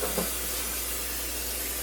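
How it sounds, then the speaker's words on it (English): Cooking spray hissing from a can onto a baking pan for banana bread, one continuous close spray burst lasting a couple of seconds. "And make sure you spray everything really well."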